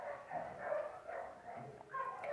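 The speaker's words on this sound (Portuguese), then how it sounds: "Vocês estão ouvindo, gente, os latidos?" Dogs bark and yip faintly in the background at a home, several short bursts scattered through a muffled, low-level room tone.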